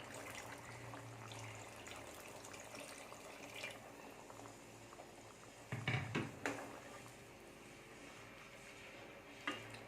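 Freshly ground coconut milk is poured into a simmering chickpea curry: a soft liquid splash and trickle stands out in a brief cluster of bursts midway, over a faint steady background hiss.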